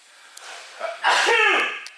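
A single sharp sneeze bursts out near the microphone after a brief intake of breath, loud and abrupt, then trails off.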